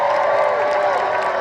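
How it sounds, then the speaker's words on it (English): Crowd on a Disney cruise ship applauding and cheering for Goofy, a brief dense wash of clapping and shouts. "Everyone give a round of applause to Goofy."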